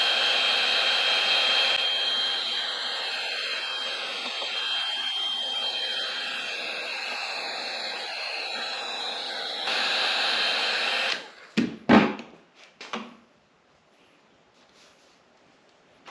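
A heat gun blows a steady, loud airflow hiss while softening a polyethylene fuel line hose on a Ski-Doo REV MXZ 550F snowmobile, running for about eleven seconds before cutting off, followed by a few short handling knocks.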